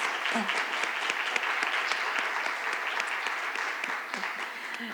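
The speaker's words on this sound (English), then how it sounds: "Let's give them a round of applause, please." Audience applause at a Gallup Center on Black Voices report announcement, steady dense clapping filling the room for about five seconds, easing slightly toward the end with no one speaking over it.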